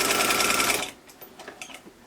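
A serger stitches a seam on a cloth face mask, buzzing close and loud in a fast even run for under a second before stopping, followed by faint fabric handling.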